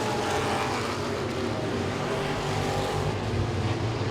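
Modified race cars roar around Langley Speedway while running side by side, a dense, loud, continuous engine howl from several cars close to the track.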